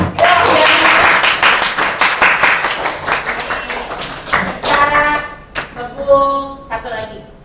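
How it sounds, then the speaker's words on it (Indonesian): A classroom of children clapping hands together, loud and rapid at first, then breaking into a few rhythmic claps as young voices chatter over the end. "Oke, tepuk tangan dulu."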